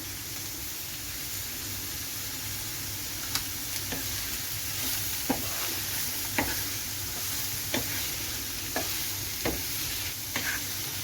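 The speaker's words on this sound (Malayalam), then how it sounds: "അപ്പോൾ ഇനി നമ്മുടെ സവോളയൊക്കെ നന്നായിട്ടൊന്ന് വഴന്ന് വരുന്നിടം വരെ നമുക്കൊന്ന് ഇളക്കി കൊടുക്കാം." Onions salted and frying in a pan for a Kerala-style camel roast, giving a steady, even sizzle with spaced, clicking stirs of a spoon against the pan.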